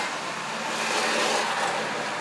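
A truck engine running just after an oil change, a steady, loud, broadband roar that holds evenly throughout with no pauses.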